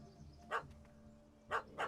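A dog in The Witcher 3: Wild Hunt gives three short, fairly faint barks, one alone and then two close together, over a low background hum.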